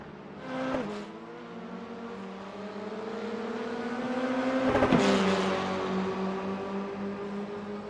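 An F4 race car enters the pit lane in the iRacing video game, its engine tone sliding and shifting through gears, passing close by with a buzzing whine, no talk.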